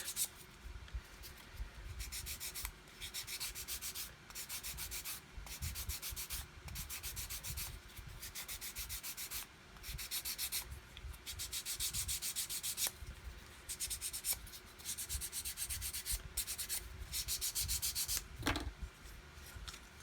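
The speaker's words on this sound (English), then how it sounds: "just keep sanding, and all of a sudden the trailing edge becomes sanded" Steady scratchy sanding of a plastic model aircraft wing's trailing edge, close up, in repeated rubbing strokes with brief pauses, continuing without any talk.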